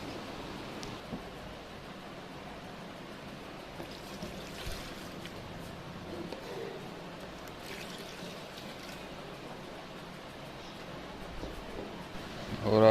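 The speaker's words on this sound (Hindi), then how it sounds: "सबसे पहले जग में 2 गिलास पानी डालेंगे।" Two glasses of water poured into a jug give a steady, close-up rushing splash that runs almost unbroken, with a low background rumble.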